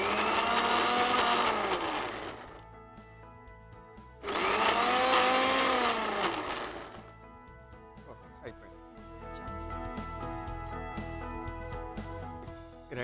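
A kitchen mixer grinder grinds onion chutney with salt in two loud whirring runs whose pitch rises and dips, followed by quieter clattering, rattling and scraping of the jar.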